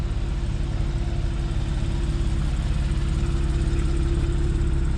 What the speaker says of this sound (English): that's it running, and you can hear the engine